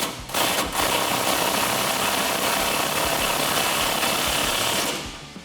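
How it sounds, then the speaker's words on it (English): An 18mm nut being tightened with an 18mm socket on a 2019-2022 RAM 1500 front leveling kit install, heard as a loud, continuous buzzing rattle of a power impact tool that runs steadily for about five seconds. "then we can tighten that down with an 18mm socket"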